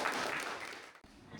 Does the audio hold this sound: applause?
yes